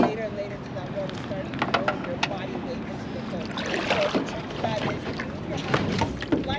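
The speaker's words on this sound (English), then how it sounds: "It's windy." Wind gusts blow across an outdoor microphone, giving a steady rushing roar with brief buffeting bursts over several seconds, and people talk faintly beneath it.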